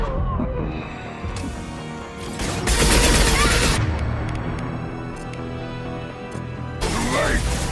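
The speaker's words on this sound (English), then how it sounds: "Firing a high-impact shot." Burst of gunfire from a high-impact shot in the Mass Effect 2 video game, a loud broadband blast in the middle amid ongoing combat noise, with another burst near the end.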